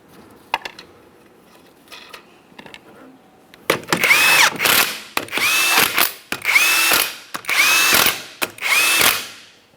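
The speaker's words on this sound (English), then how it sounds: "We're starting on all 5 of our 19mm lug nuts." On a 2007-2017 Jeep Patriot rear wheel, a power tool runs down the five 19mm lug nuts in five loud, close whirring bursts in a row, each ending with a clicking stop, after some softer handling clatter.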